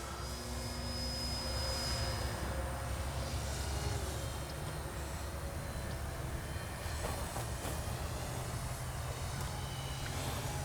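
A Dynam DHC Beaver V2 radio-controlled airplane drones steadily overhead as it comes in to land on grass, its motor a faint, even whine that holds the whole time.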